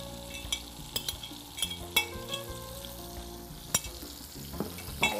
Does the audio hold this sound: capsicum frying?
yes